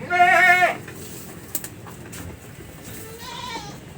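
A goat on a goat farm pen with native and purebred animals lets out a loud, close bleat, followed by quieter rustling and a fainter second bleat from farther off near the end.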